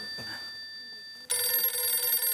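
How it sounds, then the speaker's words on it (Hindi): A telephone rings in a Hindi TV sitcom scene. A quiet lead-in gives way at once to a loud, sustained electronic ring that lasts to the end, with no talking over it. "बबीता जी बार बार मुझे फोन कर रहे हैं"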